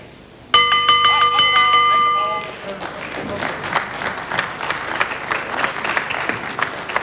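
A ringing bell at a wrestling match sounds one sharp clang that rings on for about two seconds, then gives way to a busy crowd roar and applause in the hall.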